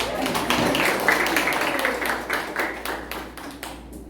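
An audience applauds at a public speaking and dining etiquette session, with a burst of clapping that thins out and fades over a few seconds while voices murmur underneath.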